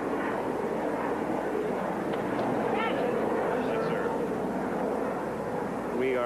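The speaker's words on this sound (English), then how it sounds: "you'll hear that sound quite often today, the droning of airplanes" Airplanes drone overhead at an outdoor 1983 tennis final between LaGuardia and Kennedy airports, a broad, steady roar filling the background with faint voices under it.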